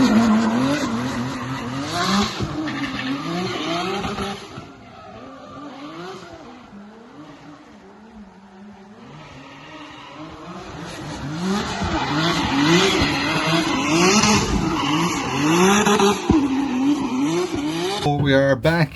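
A drift car tearing around the track at the LZ Compound in Orlando during a Formula Drift Pro series outing: loud, wavering tire squeal layered over a revving engine, rising and falling through long slides with a quieter lull midway.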